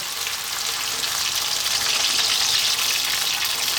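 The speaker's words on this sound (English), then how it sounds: "we're going to add some liquid to this and boil it out to tenderize the meat" Water poured into a hot pan of beef for stew makes a loud, steady hiss and sizzle that swells slightly as the liquid spreads and boils up, close by and heard alone.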